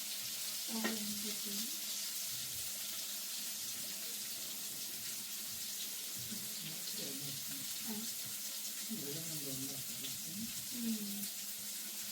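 Slices of kingfish (surmai) fry Konkan-style in a pan, giving a constant broadband sizzle throughout, with a faint voice murmuring underneath now and then.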